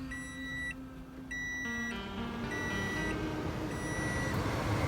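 Push-button start on a 2012 Toyota Prius C gives a series of clear electronic beeps, a repeated steady tone broken by short gaps and shifting in pitch partway through, with no talking.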